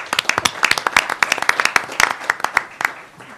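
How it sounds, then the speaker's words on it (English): A small audience claps at a Modesto city council meeting: a burst of fairly close, uneven hand claps fills the whole stretch with no talking. "Give yourself a round of applause."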